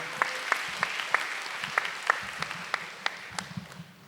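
A crowd claps steadily in applause, a dense patter of hands with a few sharper individual claps standing out, no voices.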